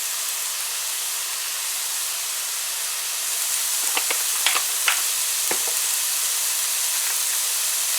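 Chopped vegetables for Guyanese raisin rice sizzling in a pot, making a soft steady frying hiss with a few brief clicks of stirring midway, quiet and close with no talk.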